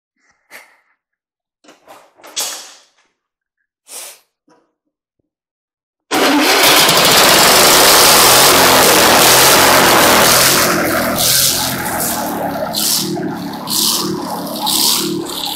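Antique engine on a buzz saw rig: a few faint clanks and shuffles in near silence, then the engine bursts into loud running at about six seconds, a steady roaring chug that eases slightly and keeps going to the end.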